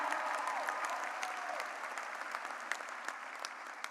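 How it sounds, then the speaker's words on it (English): Applause from a crowd at a high school graduation ceremony, steady clapping with scattered sharp claps standing out, heard at a moderate distance in a large space. "Let's hear a cheer for them."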